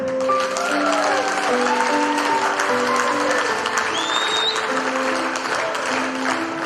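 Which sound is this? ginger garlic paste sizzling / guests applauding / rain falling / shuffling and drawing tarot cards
guests applauding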